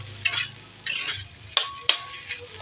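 Soybeans frying in a pan, stirred with a utensil, making bursts of sizzle between sharp metallic scrapes and clacks against the pan, close and fairly loud with no talking.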